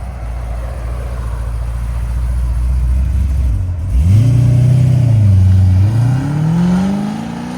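A cammed Chevrolet Corvette Z06 with a 7.0L V8, headers and its exhaust valves closed, idles with a deep rumble, then revs hard around the four-second mark and climbs through sustained pulls. The sound is loud, close and muffled, with no talking.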